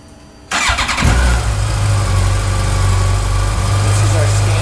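A 2014 Yamaha FJR 1300 motorcycle with its stock exhaust cranks and catches abruptly, then settles into a steady, close, mid-pitched idle hum.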